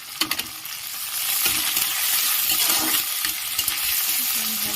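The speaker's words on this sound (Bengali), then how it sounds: "ভালো করে ভেজে নেব।" Onions and curry leaves frying in hot oil for a village fish curry, a steady close sizzle with a few sharp crackles and stirring scrapes near the start.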